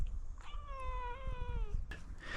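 A cat gives one clear, drawn-out meow close by, with a small break partway through, set against quiet room background and a soft knock or two.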